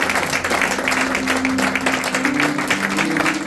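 A church congregation applauds in dense sustained clapping that fills the space, with a tone or voice held underneath throughout.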